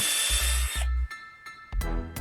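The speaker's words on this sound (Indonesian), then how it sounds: "Buat lubang berulir di kayu menggunakan obeng listrik." An electric screwdriver drives a threaded metal rod into wood, giving short, close whirring bursts with a grinding buzz, broken by pauses and small clicks and knocks.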